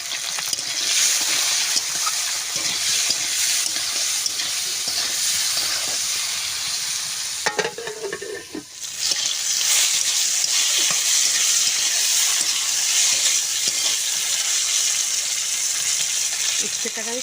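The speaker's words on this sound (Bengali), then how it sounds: "উচ্ছেটাকে আমি সুন্দর করে ভেজে নেব।" Bitter gourd fries in hot oil in a pan, giving a loud, steady sizzling hiss that drops away briefly midway before returning at full strength.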